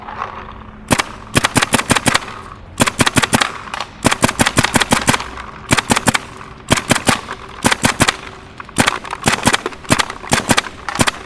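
A Tippmann paintball gun fires loud, sharp shots in rapid bursts of several at a time, with brief gaps between the volleys, running low on paint.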